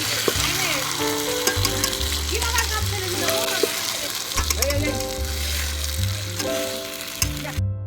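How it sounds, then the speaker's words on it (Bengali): Desi chicken cooking in a ground spice paste sizzles and fries steadily, with a broad crackling hiss throughout, while music with a steady low beat and melody plays over it. "বাটা মশলা দিয়ে দেশি চিকেন রান্না হচ্ছে।"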